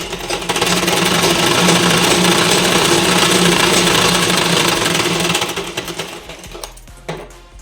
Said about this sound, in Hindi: अब हमें इस तरफ भी इसी प्रकार से सिलाई लगा लेनी है